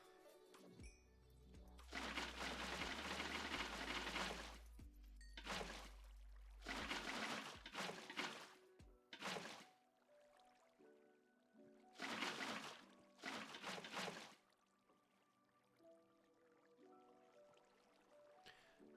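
Water poured from a bucket and flowing across blocks in Minecraft Bedrock Edition, heard as a few rushing, splashing bursts of several seconds each, with quieter game noises in between.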